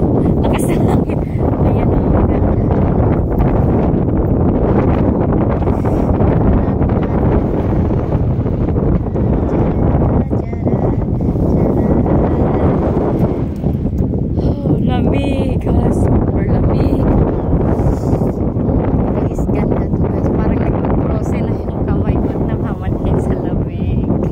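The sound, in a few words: strong wind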